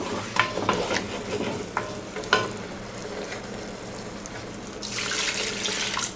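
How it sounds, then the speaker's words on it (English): Liquid pours into a hot pan of round steak cooking for gravy, with steady sizzling and a few stirring clinks early on and a bright rush of pouring near the end, fairly close and moderately loud. "we're going to go ahead and add a little bit more liquid to that"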